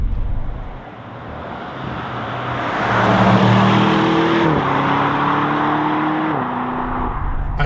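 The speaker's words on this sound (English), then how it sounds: "that 4-litre V8 twin turbo feels wonderful at slower speeds" Audi RS Q8 Performance, a 2025 SUV with a 4-litre twin-turbo V8, driving with a steady engine drone that rises in pitch as it builds speed, then shifts gear and settles, heard from inside without talk.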